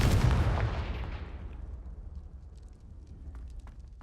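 A Confringo fire spell blast in Hogwarts Legacy: a loud, booming explosion with a crackling rush that fades over several seconds into a low rumble.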